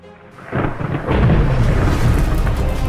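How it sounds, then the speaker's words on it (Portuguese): Deep thunder rumbles up and swells into a loud, sustained roar as a dry thunderstorm begins, dense and close, with no voices over it. "uma tempestade seca estava prestes a começar"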